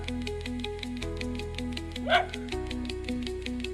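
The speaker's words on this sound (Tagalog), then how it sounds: "Aso lang ang sumasagot sa atin." A dog at a house barks and yips a few times, the most prominent yelp coming midway, over a steady background of repeating music tones.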